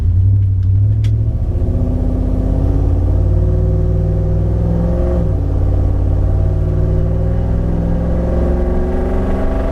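Ford Ranger pickup with a swapped Coyote V8 cruising on the road, its deep engine drone steady and loud throughout, rising and falling gently in pitch as it shifts through gears, with no talking.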